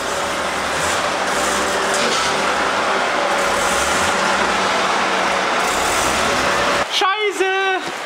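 A BMW E30 drives into a garage during heavy rain, steady engine rumble and hissing downpour building under a voice, then cutting off near the end as people talk.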